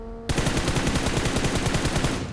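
Automatic gunfire in PUBG on the Erangel map: a rapid, evenly spaced burst of shots starts abruptly and hammers on loudly for about two seconds before cutting off.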